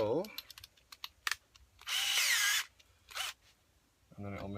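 A power drill drives screws into a wooden cajon drum in two short bursts amid clicks and handling noises, close by; a voice speaks briefly at the start and end.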